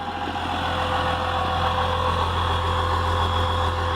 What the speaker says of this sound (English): just listen to that exhaust purr